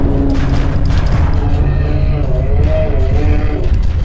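Rapid bursts of video game gunfire crackle densely over a continuous booming background, with a person talking over the shooting throughout.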